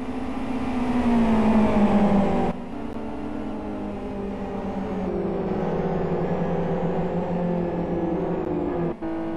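SuperGT race cars at the Kyoto circuit driving on track, a loud sustained engine drone with shifting pitch, then the tone drops and another engine steadies on, all continuous with no talk.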